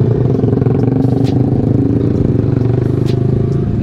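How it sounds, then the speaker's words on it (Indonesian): Engine of a 2020 Yamaha R15 V3 motorcycle while riding, a steady loud drone heard close from the rider's position, with a rhythmic pulsing hum and light wind and road noise throughout. "Suara motor gue enak banget ya."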